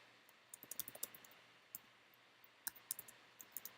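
A computer keyboard is typed on in quick, irregular bursts of soft, close clicks separated by brief pauses, fairly quiet with a faint steady hum beneath.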